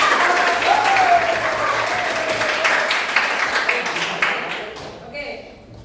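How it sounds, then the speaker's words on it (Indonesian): A school class claps together in a classroom, a thick burst of applause that carries on for several seconds before thinning out and fading near the end. "Tepuk tangan untuk kalian."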